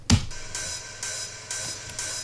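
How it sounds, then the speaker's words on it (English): Heavily processed Roland 909 drum machine hi-hats hiss in a steady pulse of about four bright, sustained strikes, opened by one sharp hit at the start, loud and close over a faint low hum. "And then we have these 909 hi-hats."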